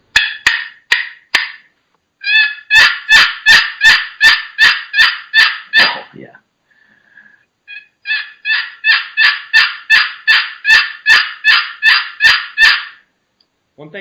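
Raspy double-sided Pollard's Elite box call from Charleston, Arkansas, worked to give loud, close turkey yelps: a few sharp strokes, then two long, rapid runs of raspy yelps separated by a short pause, with no talking.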